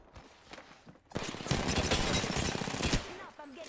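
Sustained rapid gunfire in Apex Legends hitting the player, a loud burst of dense, fast shots lasting about two seconds after a quieter stretch, then dropping back to lighter crackle.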